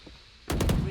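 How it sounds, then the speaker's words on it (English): Gunfire in a video game: a short burst of about three rapid, loud shots in the latter half, following a quiet stretch. "Did you see all that blind firing they did?"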